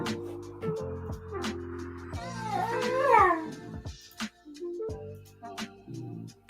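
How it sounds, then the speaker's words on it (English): A dog throwing a fit indoors on a morning livestream, with repeated whiny, howling vocal yelps and cries over low steady background tones, one rising wail standing out midway. "Do y'all hear my dog this morning?"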